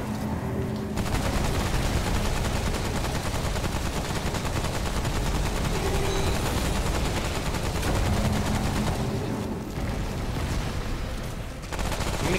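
Sustained, loud automatic gunfire from the video game Remnant: From the Ashes, a dense continuous barrage of rapid shots that runs almost the whole time, with only brief gaps near the start and end.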